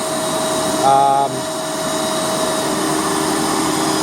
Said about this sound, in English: And the power head's kind of pulling itself along.